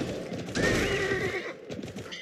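A horse whinnies loudly and close for about a second, a rising then falling neigh, with some hoof clatter and rustling noise around it and no talk.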